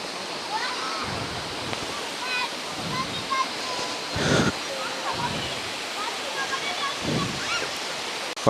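Steady broadband rush of the Gunung Pulai waterfall in Johor, heard from nearby as a constant wash of falling water through the forest, with people talking intermittently over it.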